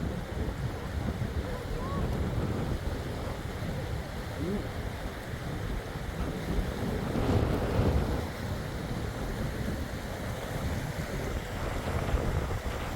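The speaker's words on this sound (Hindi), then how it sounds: "पानी का बहाव तेज़ भी है और गहराई भी काफ़ी लग रही है यहाँ पर।" A fast-flowing mountain river beside the Manali to Jispa road, swollen after rain, rushes with a continuous broadband roar. The sound is steady and moderately loud, with some wind buffeting.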